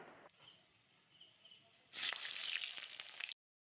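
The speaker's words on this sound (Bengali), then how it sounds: "এবার কড়াইতে তেল গরম হয়ে গেছে ফোড়নে দিলাম জিরে গোটা গরম মশলা শুকনো লঙ্কা আর তেজপাতা" Cumin, whole garam masala, dried chilli and bay leaf hit hot oil in a kadai, a faint hiss first, then a loud bright sizzle that swells for about a second and a half before cutting off.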